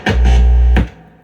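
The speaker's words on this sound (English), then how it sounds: "Right now we're playing guitar loudly o'clock through" Loud, thick electric guitar chords from a late-1980s Japanese-made Squier Strat through a 1974 Fender Quad Reverb amplifier ring out: two strong strums that sustain heavily, then fade into a decaying hum.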